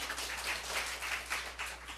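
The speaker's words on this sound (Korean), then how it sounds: "우리 하나님께 박수 올려드려." A church congregation claps during a Sunday service in Seoul, a soft rhythmic wash of many hands with pulsing swells, heard faintly at a distance over a low steady hum.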